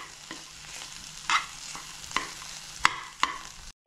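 Almonds frying in ghee, a low continuous sizzle broken by several sharp scraping clicks of a spoon stirring against the pan, no voices.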